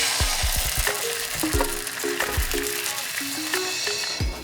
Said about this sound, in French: Dans une poêle bien chaude avec de l'huile neutre, je verse un quart de ma préparation.